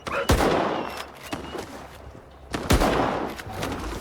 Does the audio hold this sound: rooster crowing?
no